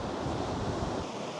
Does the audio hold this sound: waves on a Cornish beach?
yes